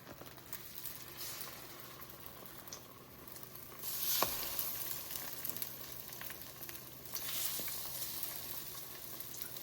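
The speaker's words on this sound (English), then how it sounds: "we're going to go ahead and carefully put our French toast in the skillet" French toast sizzles in a hot skillet, a steady frying crackle that swells as the bread is laid down and again later, with faint scraping and no talking.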